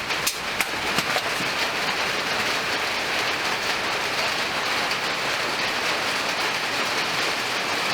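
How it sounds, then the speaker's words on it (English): Steady rain falls on a rainy day, making a continuous dense patter with a few sharper drips near the start, fairly loud and with no speech. "We got a rainy day today."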